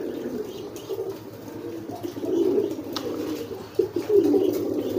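Homing pigeons coo in a loft, low soft rolling calls repeating close by over a steady murmur of other birds, with a few brief louder bursts.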